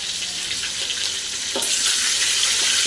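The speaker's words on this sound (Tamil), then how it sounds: "அடுத்து கொஞ்சம் பச்சை மிளகா போட்டு" Green chillies fry in hot oil with mustard seeds, a steady close sizzle with a brief crackle midway and no talking.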